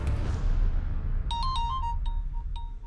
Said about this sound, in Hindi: पापा आपका फोन बज रहा है।